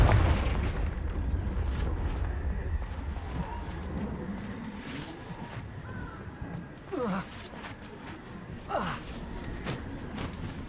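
Confringo spell blasts in the Hogwarts Legacy video game boom and crackle amid battle noise, with a heavy low rumble at the start and a few sharp whooshing bursts later, moderately loud, with game voices mixed in.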